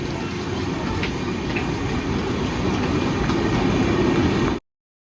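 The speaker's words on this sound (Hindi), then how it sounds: "मैंने पहाड़ से एक क्लिप ली नीमच के रेलवे स्टेशन की" A train at Neemuch railway station, a steady loud rumble of wagons rolling past with faint clickety-clack from the wheels, continuous and close, with no voices.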